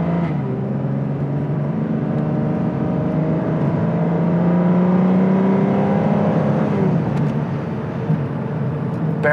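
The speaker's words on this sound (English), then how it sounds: "Barely got on the gas pedal and off this thing went." A 2008 Aston Martin DB9 automatic accelerating on a public road, its engine note rising steadily and loud from inside the cabin as revs climb, with a continuous low drone and road noise throughout.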